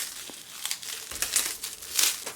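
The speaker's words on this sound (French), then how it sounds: "je retire le scotch" Adhesive tape peeled off a chilled container holding a giant strawberry Yop candy, a series of close, crinkly rips and tearing bursts with brief pauses between them.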